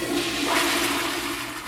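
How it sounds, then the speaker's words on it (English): A recorded toilet flush rushes and gurgles steadily for under two seconds, a loud close whoosh of water heard alone. "A toilet flushing"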